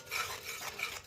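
Flour stirring and scraping in a pan as it roasts over a gas flame, a soft raspy rubbing that repeats in short strokes, close and moderately quiet, with no talking.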